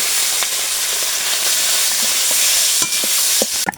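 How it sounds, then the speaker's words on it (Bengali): Small shing catfish fry loudly in a pan in a dense, continuous hiss of sizzling oil, with a few sharp spatters and clatters near the end and no voices. "এই যে বাকি ছোট শিং মাছগুলো আমি সব দিয়ে দেওয়া করে"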